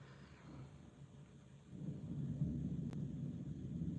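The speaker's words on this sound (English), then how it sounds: "Are you talking about the thunder in the background?" Thunder from storms out in a coastal area, a low, distant rumble that swells and rolls on steadily, heavier in the second half, with no voices over it.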